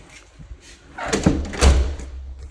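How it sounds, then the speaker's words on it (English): An interior door swings shut with a soft thud and brief rattle partway through, close by and alone, during a walkthrough inspection of a house on Beechdale Road. "Door closing just fine."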